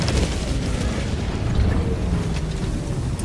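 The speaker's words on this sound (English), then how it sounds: "Firing orbital strike." Orbital strike explosion in Helldivers 2, a dense, loud rumbling blast with booming low end sustained across the clip, no voices.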